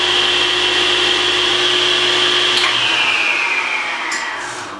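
A SawStop table saw running after a 110v to 220v power upgrade, a loud steady motor whine with a low hum, winding down slightly near the end, close and alone.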